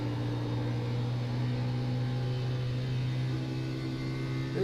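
A race car engine in the iRacing video game drones steadily with harmonic whine, an Xfinity Series car at Charlotte Motor Speedway, its pitch shifting slightly and revs lifting near the end.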